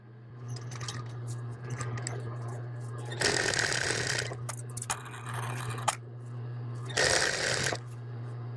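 Sewing machine stitching a narrow folded hem along an apron armhole, two short bursts of whirring stitching with a steady low motor hum and small clicks and fabric handling in between.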